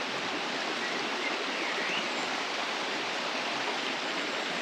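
River water flowing beneath a bridge near old ruins, a steady broadband rush like a stream or small waterfall, continuous and even at moderate loudness with no voices.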